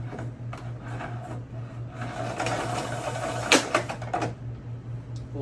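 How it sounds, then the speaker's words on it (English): Electrolux Floor Pro dry foam carpet cleaner running, a steady low mechanical hum with rhythmic brushing and rubbing strokes that grow louder midway, then a few sharp clunks near the end, close and alone without speech. "But that is your Electrolux Floor Pro Dry Foam Cleaner."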